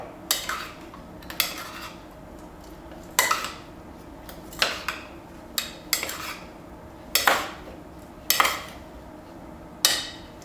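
Chunky salsa with lime juice and a pinch of salt being mixed in a bowl, a spoon knocking against the sides in a string of irregular, fairly quiet clinks and taps with no one talking.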